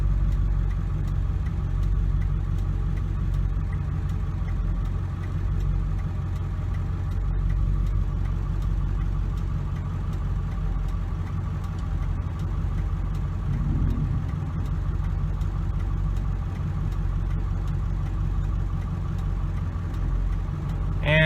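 A 2001 Ford F250 Powerstroke diesel pickup with a rebuilt transmission drives along, its engine a steady low drone heard from close by. The rumble holds even for about twenty seconds with only slight shifts in pitch and no talking.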